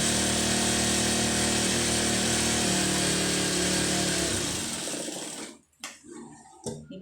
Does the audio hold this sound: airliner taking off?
no